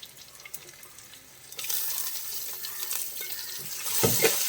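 Onions tipped into a pan of frying ginger and garlic for Kottayam-style duck mappas; quiet scraping gives way to a loud, continuous sizzle that swells near the end.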